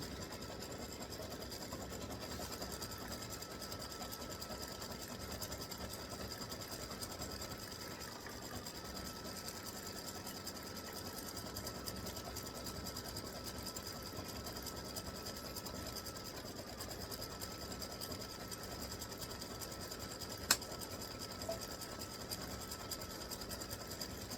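An embroidery machine stitches a free-standing lace bee, making a continuous rapid mechanical whirring and ticking that stays close and even throughout, with one sharp click near the end.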